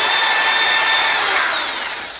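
A worn Scotch-Brite pad scrubbed hard against an engine head on a service truck rebuild, giving a loud, continuous abrasive hiss that eases slightly toward the end.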